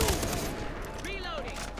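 Sustained automatic gunfire from Far Cry 3 rattles continuously, dense and loud with faint tonal effects layered beneath, no pauses across the stretch.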